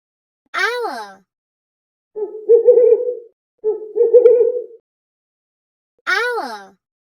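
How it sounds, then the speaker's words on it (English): An owl gives two hooting calls, one near the start and one near the end, each a short wavering tone. A voice speaks between the two calls. "owl"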